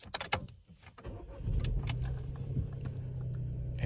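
A 2020 Skoda Fabia starts up: a few sharp clicks of the key and switches, then the engine catches around the middle and settles into a steady low idle hum that continues to the end.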